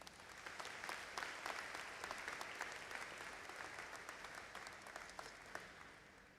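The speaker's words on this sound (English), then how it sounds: "Let's give them a round of applause." An audience at a university convocation ceremony claps for six honored members, a steady, moderately distant round of applause with scattered sharper individual claps, continuing evenly throughout.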